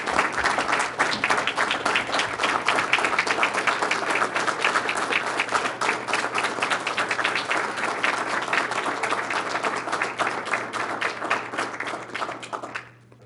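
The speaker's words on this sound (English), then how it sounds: "Again, a round of applause." A room at a school board business meeting fills with dense, sustained applause from many hands, steady and fairly close for about thirteen seconds before it quickly fades out at the end.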